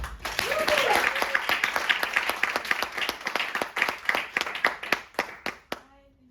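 An audience applauds steadily to welcome a speaker at a talk on musical training and mathematics, a dense round of clapping that thins to a few scattered claps before stopping.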